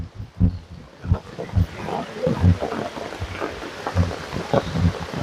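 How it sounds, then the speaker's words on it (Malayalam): Heavy rain pours down steadily during a flood at Pooyamkutty, a dense hiss with irregular low thumps and rumbles scattered through it. "അപ്പൊ വീണ്ടും ഭയങ്കര മഴയാണ്"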